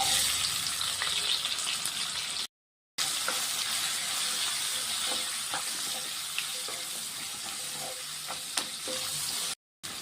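Onions, garlic, green chillies and curry leaves sautéing in a hot pan give a steady close-up sizzle with occasional stirring scrapes, broken by two brief silent gaps.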